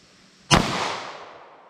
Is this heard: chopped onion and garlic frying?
no